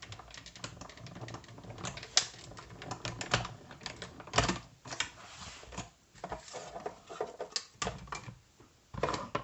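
A paper scrap cranked through a die-cutting machine for a mini album craft gives a steady run of close, dense ratcheting clicks and gear grinding, pulsing unevenly with no talking.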